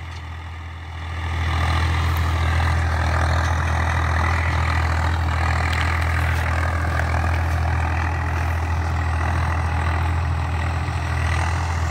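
A Swaraj 855 FE tractor engine runs steadily with a heavy low rumble while pulling a harrow through hard, compacted soil, loud and continuous throughout after a quieter first second, with no talk.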